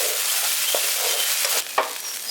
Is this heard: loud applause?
no